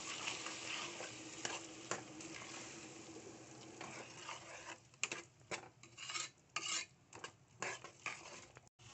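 Fried hyacinth beans stirred with ground masala in a pan, a quiet sizzle giving way to close, rhythmic scraping strokes of a spoon against the pan.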